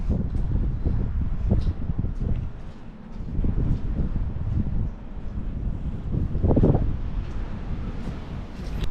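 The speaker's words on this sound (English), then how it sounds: "Suddenly it's all windy again." Strong wind buffets the microphone continuously at the top of an abandoned 17-storey tower block, roaring and gusting with low rumbling surges throughout, loud and close.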